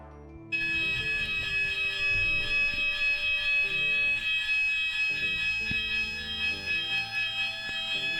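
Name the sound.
building fire alarm ringing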